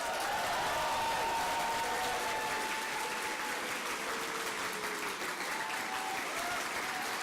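Sustained audience applause fills a Trans Day of Remembrance concert hall, a dense, even wash of clapping from a large crowd that holds steady without a break from start to finish.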